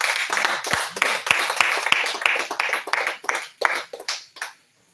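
A church congregation claps along in worship, a steady run of sharp, rhythmic hand claps filling the room before thinning out and stopping near the end.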